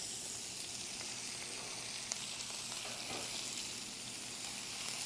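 A red snapper frying in a pan over a lowered flame gives a steady, even sizzle at moderate level, with faint crackles and no talk.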